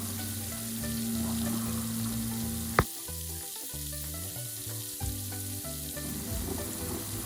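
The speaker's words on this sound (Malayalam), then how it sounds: "ഷ്രിംപ് ഞാൻ 2 സൈഡും ഫ്രൈ ചെയ്തെടുക്കുകയാണ്." Shrimp frying in hot oil, a continuous close sizzle and crackle with a brief sharp clink partway through and a low steady hum underneath.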